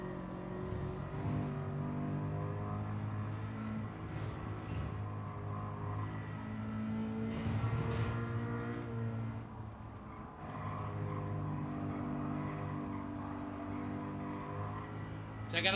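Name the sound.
race car engine accelerating, from video game Gran Turismo 7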